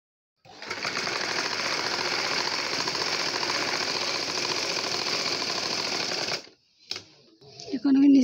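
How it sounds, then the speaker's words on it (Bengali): An electric sewing machine stitches the sleeve cuff of a round baby frock, a fast steady mechanical whir running close and loud for about six seconds, then stopping, followed by brief handling noises. "এখন আমি হাতার নিচ দিয়ে মুহুরিটা সেলাই করে নিব।"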